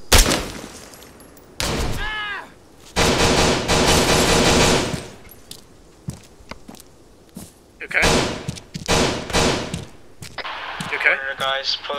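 Gunfire in close-quarters live fire training in the video game ArmA 3, with loud bursts of rapid shots and single cracks between quieter gaps, and voices talking over parts of it.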